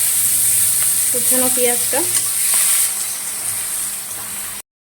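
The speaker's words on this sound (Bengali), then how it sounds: "পেঁয়াজটা একটু নাড়াচাড়া করে নিচ্ছি ভালো করে" Chopped onion frying in spiced oil in a home kitchen, a steady sizzle and hiss with stirring scrapes, a short bit of speech partway through, ending abruptly.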